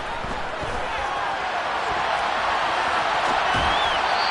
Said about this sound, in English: You can already start to hear this crowd. They're saying, go for it.